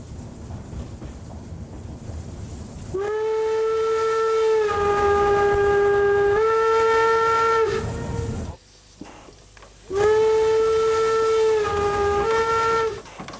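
Steam whistle on a German standard-class steam locomotive, a bronze bell whistle driven by steam: two loud, sustained chord-like blasts with a short gap between them, heard close against a low rumbling background.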